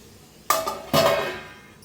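A metal lid set onto a pan of upma, two clanks about half a second apart, the second fuller and ringing briefly before fading, close and alone.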